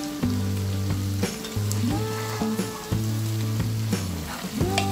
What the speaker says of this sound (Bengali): এখন আমি এতে ভাজা জিরা দিয়ে দিব হাফ টেবিল চামচ পরিমাণ।